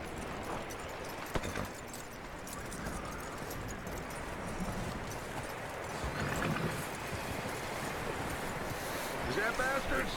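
Horse hooves clop along at a steady pace in Red Dead Redemption 2, faint and continuous, with people talking over them.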